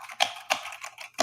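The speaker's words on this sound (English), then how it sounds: "I wish I had some typing sound effects because you can't hear it" Typing sound effect played back, a few sharp typewriter-like key clacks spaced irregularly across a short moment, clear and close with no talk over them.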